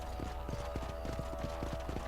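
Horse hooves galloping in Red Dead Redemption, a rapid steady clip-clop rhythm of hoofbeats over a constant low rumble, fairly close and clear.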